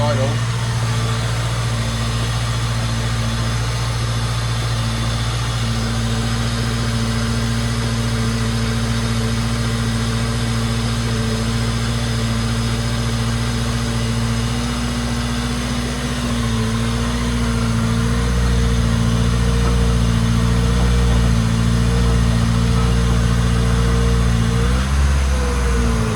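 A Ford Focus engine idles high after a cold start, a steady close droning hum that holds for the whole stretch, with a slight change in pitch near the end and people talking over it.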